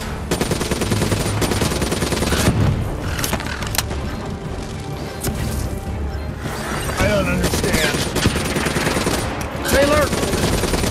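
Sustained automatic gunfire and explosions from the Call of Duty: Black Ops 3 video game fill the whole span, rapid bursts layered over a dense battle din with loud booms.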